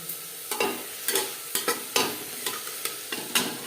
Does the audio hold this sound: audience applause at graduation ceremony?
no